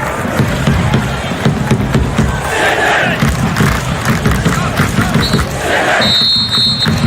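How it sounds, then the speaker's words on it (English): Football fans in a packed stadium at a Sydney FC versus Melbourne City A-League match applaud and roar, a loud, dense and continuous crowd wash with swelling cheers and faint commentary underneath. "Sydney FC fans stand to applaud"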